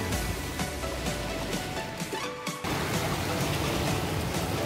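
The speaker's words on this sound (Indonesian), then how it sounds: "Kondisi hujan ini lur" Steady rain falling at Pancer beach in Banyuwangi, a dense, even hiss that fills the whole stretch with a brief dip midway and no voices.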